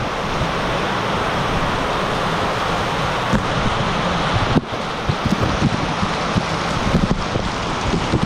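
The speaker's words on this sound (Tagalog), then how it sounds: "ano yan, ulan" Heavy rain pouring down on a farm, a loud, steady hiss of downpour drumming on surfaces with no pauses, filling the whole stretch with dense roaring noise.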